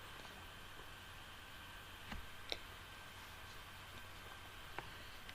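Keyboard Enter key pressed on a computer, heard as a few faint, sharp clicks spread over several seconds against a quiet background hiss.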